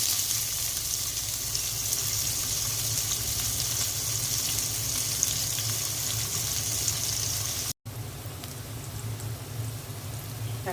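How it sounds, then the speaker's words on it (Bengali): Sliced onions frying in oil left over from frying pabda fish, giving a continuous, even sizzle close by that holds steady apart from a momentary gap near the end. "মাছ ভাজা তেলের মধ্যে পেঁয়াজ দিয়ে দিচ্ছি।"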